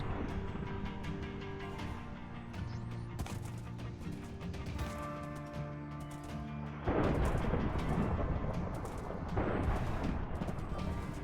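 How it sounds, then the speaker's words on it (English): Rain and rolling thunder in modded Minecraft 1.7.10 with a Wild West frontier modpack: a constant noisy downpour under game music, swelling into a louder, rumbling stretch partway through. "I guess it's raining."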